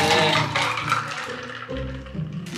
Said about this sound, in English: then we'll pour the drink back into here